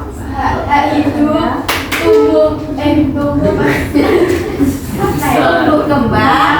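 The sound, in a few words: group clapping game, tepuk hak anak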